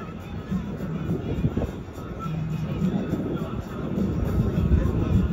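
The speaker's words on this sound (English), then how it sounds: "Look at that massive airplane out there turning around." A massive airplane turns during an air show at a military air station, its engines giving a steady, broad roar at a distance that holds throughout the clip.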